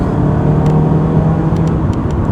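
Mazda CX-3 compact SUV engine revving in sport mode while driving, a loud, steady, close cabin engine drone with faint ticking above it, no speech.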